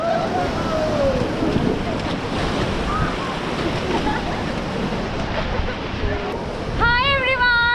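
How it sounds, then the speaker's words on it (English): Rushing river water and wind buffet steadily during a river-rafting trip in Kullu, a broad continuous roar close by with voices calling faintly over it and a brief whistle-like tone near the end. "we are river rafting"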